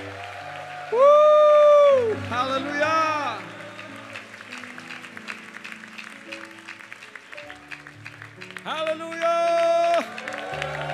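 A worship congregation gives a hand-clap offering, clapping together under loud shouts and cheering, with sustained sung or musical tones rising and falling over the crowd.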